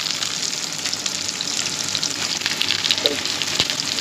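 Onions fry in a hot pan with spices for a desi-style chicken biryani, giving a continuous, even sizzle and crackle up close, with a few brief stirring clicks and no talking.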